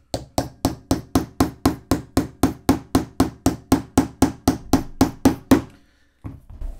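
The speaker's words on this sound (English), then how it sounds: "I'm doing this very lightly with a hammer" A hammer taps lightly and steadily on a pin being driven through a shiny new cylinder during a KC-02 VSR airsoft conversion kit install: about twenty evenly spaced close metallic knocks, then a pause and one faint final tap.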